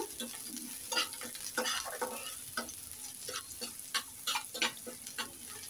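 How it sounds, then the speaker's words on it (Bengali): Chopped onion and garlic sizzle in hot oil in a pan, with repeated scraping stirs of a spatula giving an irregular rhythm, close and fairly loud. "এখন প্যানে আমি তেল দিয়েছি, আর পেঁয়াজ কুচি, রসুন কুচি দিয়ে দিলাম"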